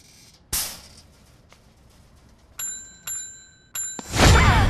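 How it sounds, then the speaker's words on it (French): A bell rings three times in quick succession with bright metallic tones, framed by sudden bursts of rushing noise before and after. "Arrêtez d'appuyer sur la sonnette, bon sang!"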